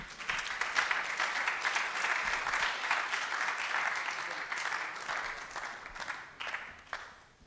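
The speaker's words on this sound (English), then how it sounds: "Please, I think he deserves another round of applause" An audience at a national ICT week training session claps after a speech, a dense, sustained round of applause that holds steady before thinning out in the last second.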